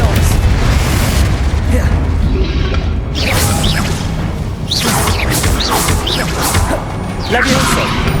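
Confringo spell blast in the video game Hogwarts Legacy, heavy booming explosions amid continuous loud combat noise, with bursts, whooshes and voices calling out spells throughout.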